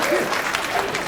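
A comedy club audience claps in a brief, scattered burst, with a voice and some crowd murmur mixed in.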